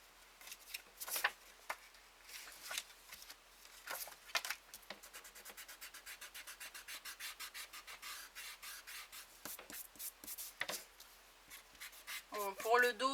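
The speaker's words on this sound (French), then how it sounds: "je vais gommer avec ça" A pencil mark being rubbed out with a makeshift eraser on a paper card for a handmade princess card: rapid, steady scratchy rubbing strokes close by, in bursts with short pauses, then a few rustles near the end.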